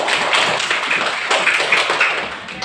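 Classroom applause from a group of schoolchildren, a dense, steady patter of many small hands clapping close by for under three seconds, without talk over it.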